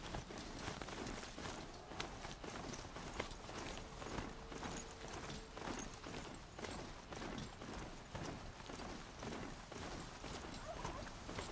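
A worn-out horse walks in a video game, its hooves clip-clopping in a steady rhythm amid busy game sounds, with no voices.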